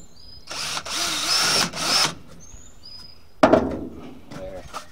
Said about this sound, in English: First thing I want to do though is drill a couple drain holes in the bottom of this.